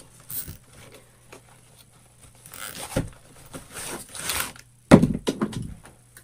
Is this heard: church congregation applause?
no